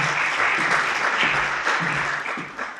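A conference audience applauds after a talk on AI challenges and regulation, with sustained clapping from many hands at fairly close range. A few louder individual claps punctuate it before the applause eases toward the end.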